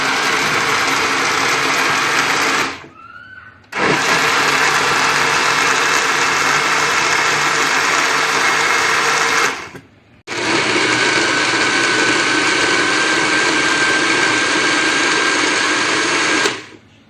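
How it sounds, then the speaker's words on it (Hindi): Electric blender grinding cooked mango for mango squash, a loud steady whirring motor running in three long bursts with brief pauses between them, no talking. "अब मैं आपको इसको पीस के दिखाती हूँ।"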